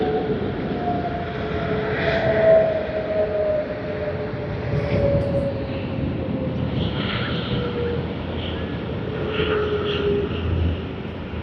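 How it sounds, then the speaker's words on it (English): Qantas Airbus A380 airliner arriving at Sydney Airport, a sustained distant engine roar with a slowly falling whine, steady and fairly loud. "Alright, another Quantas A380 service."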